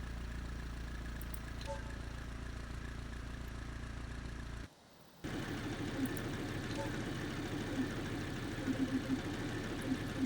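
An 06 car engine idles with a steady low hum throughout, briefly dropping out mid-way before resuming, with faint voices in the background.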